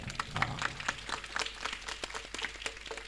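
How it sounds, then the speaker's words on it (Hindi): An audience at a Hindu religious discourse gathering claps in a fairly rhythmic, evenly spaced patter. The clapping is faint and distant, with little else heard. "तालियां बजाओ आप एक बार अपने लिए।"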